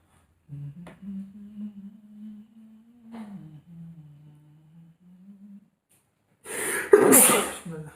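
A person sneezes once, loud and close, near the end, after several seconds of a low, steady humming tone and brief clicks in an otherwise quiet room.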